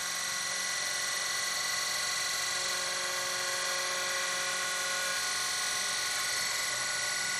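A 2000FR electric fabric cutter trims layers of quilting cotton, a continuous high-pitched motor whine that stays steady and close with no break and no talk.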